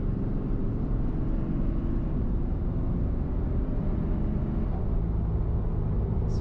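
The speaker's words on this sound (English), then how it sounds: "Here's another low acceleration." A 2015 RAM 2500 with a Cummins diesel engine pulls away under partial throttle, a steady, dense low engine drone with road rumble that holds an even loudness throughout.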